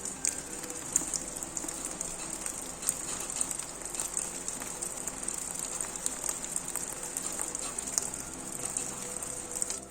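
Steady rain patters down at five in the morning outside a house under construction, a dense continuous hiss of drops on surfaces with no voices.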